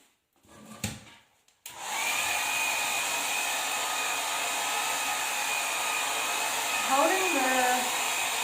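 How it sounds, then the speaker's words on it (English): After a brief clatter and pause, a hair dryer switches on and blows loudly and steadily, its airflow shifting slightly near the end. "Holding the hairdryer on an angle dries it quicker and doesn't damage it."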